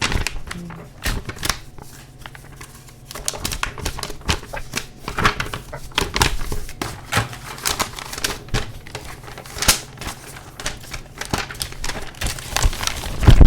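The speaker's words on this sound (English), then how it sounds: "Shuffling deck cards." Cards are shuffled over and over, a rapid riffling patter with crisp snaps and bursts of flicking, close and fairly loud.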